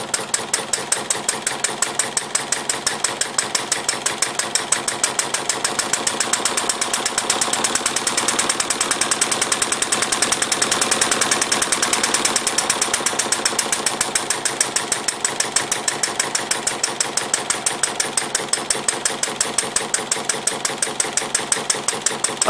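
A Webster engine fitted with its original Chuck Fellows carburetor runs steadily and loudly with a rapid, even firing beat, speeding up after a slow stretch and holding throughout with no talk.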